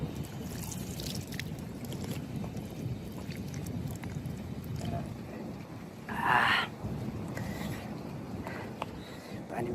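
Water runs from a twist-tap drinking fountain in a park by a temple entrance, a soft steady rush with a brief louder splash midway and faint voices in the background.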